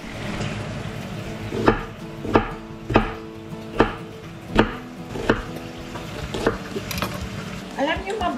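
Vegetables being chopped on a cutting board, a regular series of about a dozen sharp knife strikes roughly every half second, close and moderately loud, over a soft background of frying sizzle.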